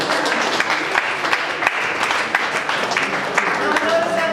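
Audience applause during a mental math stage show, a steady crowd clapping with a few sharper claps standing out, with some voices mixed underneath.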